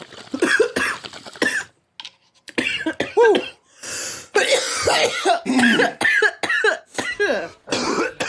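Repeated harsh coughing fits after a bong hit, loud and close, in several bursts with throat clearing and gasping breaths between them.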